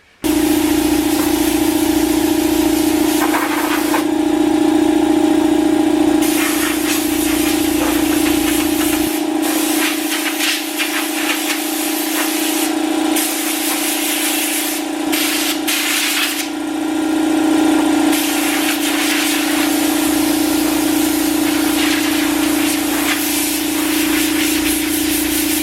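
A blower runs continuously for dash flocking on a car dashboard, a loud steady hiss and hum with the airflow cutting in and out several times.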